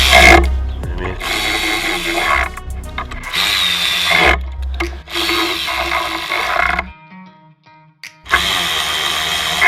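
A power tool drives spark plugs on a 2014 Mercedes C250, whirring close and loud in several bursts of a second or two, each separated by a brief quiet gap.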